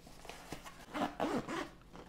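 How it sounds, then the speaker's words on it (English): A zipper being pulled closed on an insulated lunch bag, several short close-up rasping strokes in quick succession, the pulls getting louder and more effortful toward the end as the bag is forced shut. "I can zip this up, get it closed there."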